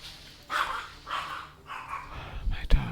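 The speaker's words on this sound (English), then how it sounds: "Excuse me while I yell at my dogs for a moment." Several dogs bark in short bursts at a moderate distance, with a person's voice talking over them and a louder thump near the end.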